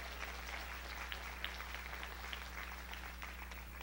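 A church congregation gives sustained applause, quiet and distant, with scattered sharper claps over a low mains hum on an old recording.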